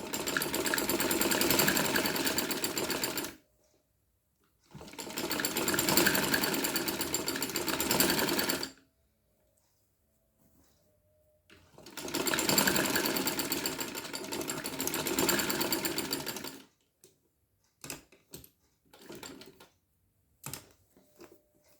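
A sewing machine stitching dori piping onto the hem of a kameez, with three long bursts of rapid stitching separated by pauses, then a few short stitches near the end.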